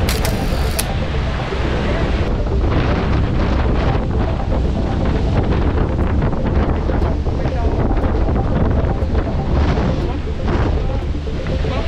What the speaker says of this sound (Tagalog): maririnig nyo yung hangin. Sobrang lakas kasi.